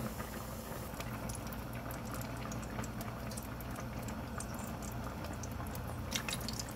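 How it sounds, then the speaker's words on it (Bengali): Vegetable curry comes to a boil, giving a constant low bubbling and simmering hiss with faint pops, close by and without talk. "এখানে আমার সবজিটা বলক এসে পড়ছে"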